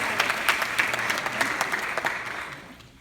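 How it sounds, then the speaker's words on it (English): A graduation audience gives the graduates another round of applause, loud, dense clapping with a few sharper individual claps standing out, tapering off over about three seconds. "Another round of applause."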